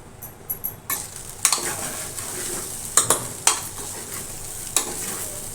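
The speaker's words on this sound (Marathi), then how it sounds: "अंड्याची अशी भुर्जी बनवून घ्यायची पूर्ण फोडून घ्यायचं आणि आपण मिक्स करूया" Eggs being stirred and broken up into bhurji in a hot iron wok, with steady sizzling and frying under repeated sharp scrapes and clinks of a spatula against the metal.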